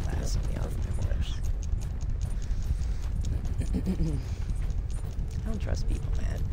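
In Fallout 76, a horse's hooves clop in a quick, even rhythm close by, heard under someone talking over the game's ambient sound.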